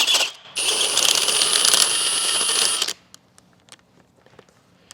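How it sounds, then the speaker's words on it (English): Lug nuts come off a 2016 Chevrolet Suburban LT front wheel during a brake job with a socket tool. A short metallic clink is followed by a couple of seconds of ratcheting, whirring mechanical noise, which then stops cleanly. "Next, we'll go ahead and remove the wheel."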